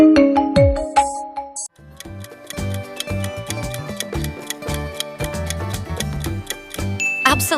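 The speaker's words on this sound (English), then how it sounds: "Absolutely right, it's Lenovo." Lenovo mobile phone ringtone, a bright electronic melody of quick chiming notes over a steady rhythmic beat, playing clearly with no voices.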